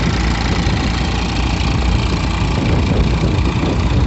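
A Massey Ferguson tractor's diesel engine running on a farm, a steady, loud, unbroken rumble with a faint knocking texture that holds an even pitch from start to finish with no voices over it.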